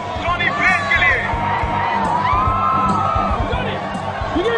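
A crowd at a motorbike stunt show cheers, whoops and shouts for Johnny Blaze in a loud, continuous swell, with some voices rising above the general roar.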